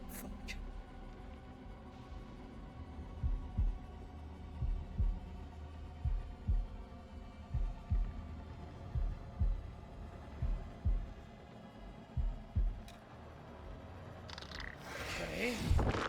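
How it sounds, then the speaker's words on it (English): Heartbeat sound effect from the horror video game House of Ashes: a steady series of deep, muffled double thumps pulsing at a regular rhythm over a low rumbling hum, ending in a louder burst of noise. "they hit you with a single heartbeat at the end of that one"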